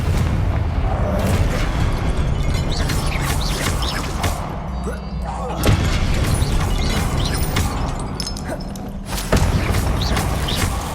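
Magic spell blasts cast in the Hogwarts Legacy video game, a dense run of loud booming bursts and crackling impacts, with sharp hits near 5.7 and 9.2 seconds.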